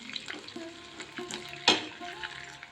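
Onions sautéing in a pan for coriander rice, with a steady low sizzle and a few spoon scrapes, one sharper clink near the middle.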